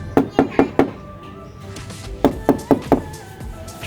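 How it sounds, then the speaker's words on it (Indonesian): Knuckles rap the thick plastic body panels of a Davigo Forza electric scooter: two close groups of four crisp, hollow knocks, loud and near, with a short quiet gap between the sets. "Saya coba ketok ini suaranya."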